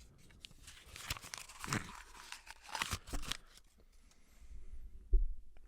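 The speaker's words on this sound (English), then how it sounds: "ASMR paper eating for an hour" Crisp paper crinkling and tearing in short, quiet bursts as it is chewed, close to the microphone, with a soft thump near the end.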